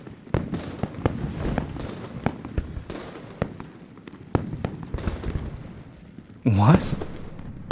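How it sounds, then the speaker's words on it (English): New Year's fireworks in the video game Love and Deepspace burst in a steady run of sharp cracks and booms over a rumbling background, with a brief voice near the end. "The fireworks are too loud."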